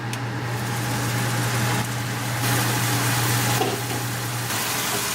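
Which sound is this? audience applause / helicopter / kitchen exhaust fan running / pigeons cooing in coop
kitchen exhaust fan running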